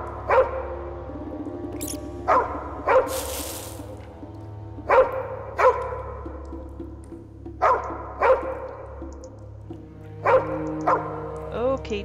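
Dog barking in the hidden-object adventure game Nightmares From the Deep: Davy Jones, set in mines, giving repeated sharp barks in clusters a second or two apart over a low ambient drone, with a voice talking in between.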